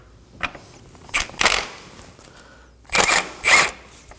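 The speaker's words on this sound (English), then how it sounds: "Now we're going to lose these two bolts right here using a 14mm socket and an extension" Engine mount bolts on a 2014-2020 Acura MDX broken loose with a 14mm socket on an extension, heard as a few short metallic clicks and ratcheting bursts spread across a few seconds, close up and with no one speaking.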